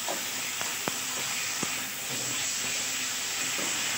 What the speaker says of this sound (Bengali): এবার এই আলুগুলোর সাথে মশলাটা ভালোভাবে কষে নিতে হবে।